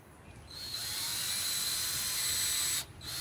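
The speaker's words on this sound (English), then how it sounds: "let me go ahead and pre-drill these" A high-pitched drill whirs continuously for a few seconds at close range, pre-drilling holes in wood, then winds down abruptly.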